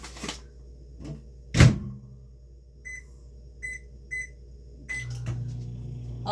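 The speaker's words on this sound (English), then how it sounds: "and then you fold the bag over, and then you put it in the microwave." A microwave oven holding a popcorn bag: a heavy door thud, a few short keypad beeps, then a steady low hum as it starts running, with no voices.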